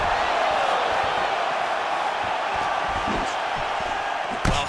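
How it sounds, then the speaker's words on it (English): Arena crowd at a UFC fight: a steady, loud wash of crowd noise with a rising murmur of oohs and reactions, and a sharp thump near the end. "You hear this crowd just eating out of his hand, oohing and on every time he advances"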